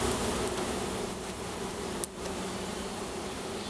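Honeybees buzzing in a hive as they are installed, a dense, steady drone of many wings close by, continuous throughout with a brief dip partway and no voices.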